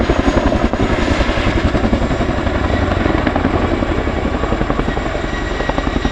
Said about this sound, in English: There we go, presenting both discs to the airflow, bringing the aircraft to a stop.